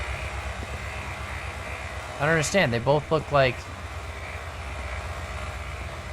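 Twin-throttle combustion engines in a video game run with a steady low rumbling drone throughout, while a person speaks briefly over it in the middle.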